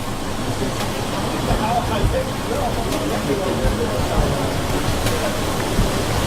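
Waves made by a machine in a ship test tank, set to imitate a violent storm sea, roar as a steady, dense wash of surf-like noise that never lets up.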